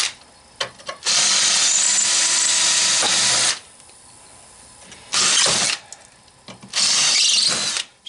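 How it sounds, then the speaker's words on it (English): Power drill boring out rivets on a scrap shop fan, three loud whirring bursts of about two seconds each separated by quieter pauses and clanks, close up with no talking. "Sometimes when you're drilling rivets"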